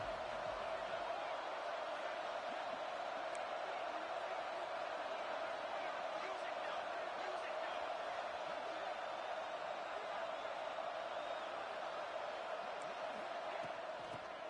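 A college football stadium crowd roars on third down, a dense, steady wall of cheering that holds at an even level throughout with no pause.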